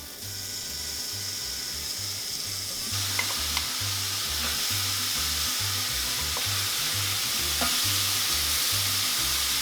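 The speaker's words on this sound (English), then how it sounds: "Okay, so let's put our shrimp in the pan." Shrimp sizzling steadily in a hot pan previously used for keto bread, a broad continuous frying hiss with a few light clinks from handling, close and fairly loud throughout with no voices.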